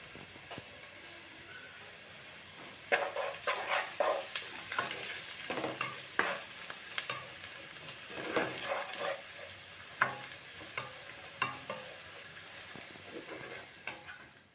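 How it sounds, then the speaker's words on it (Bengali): Onions frying in a pan for haleem, a soft sizzle under repeated clattering scrapes of a spatula being stirred through them, fairly close and irregular. "একটু সময় নিয়ে পেঁয়াজগুলোকে লাল করে ভেজে নিতে হবে"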